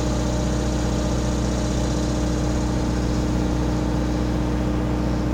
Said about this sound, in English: they're running their little engine for a generator